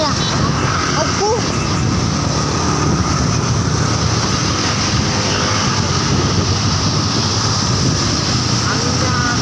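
Strong wind roaring across the microphone while riding a motorcycle over the Suramadu bridge, a loud continuous buffeting rush mixed with engine and road noise that never lets up.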